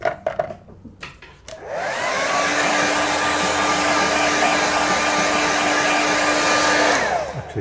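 A hair dryer quick-drying a watercolour landscape painting starts after a few small knocks, then runs as a loud, steady close whoosh with a constant whine for about six seconds before cutting off.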